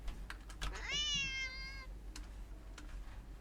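A single drawn-out meow comes from a cat in a video game, quiet and close, with scattered keyboard-like clicks before and after.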